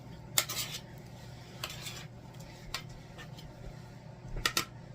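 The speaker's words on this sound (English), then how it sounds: "Now we're going to take that mixture and mix it back up again." A spoon scraping and clinking in a bowl while stirring a pizza topping mixture for pita bread pizza, with a few sharp taps spread over several seconds against a quiet room background.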